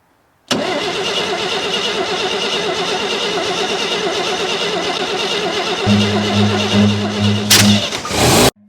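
A 1966 International pickup truck engine cranks steadily and strains to catch, a loud continuous churning with a rougher burst near the end before cutting off.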